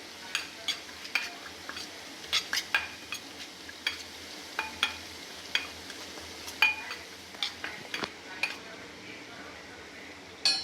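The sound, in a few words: stirring a spice mix of black salt, chaat masala, chili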